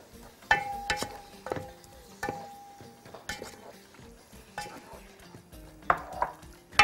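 Chicken frying in a pan and being stirred and turned with paprika and ginger, giving repeated utensil scrapes and clinks against the pan, with a few sharper knocks over a low sizzle.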